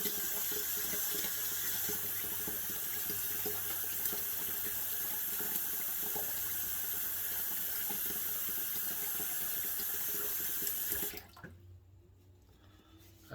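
Tap water runs steadily into a sink for a rinse after a shave, a loud continuous splashing hiss that stops abruptly near the end, leaving a quiet room.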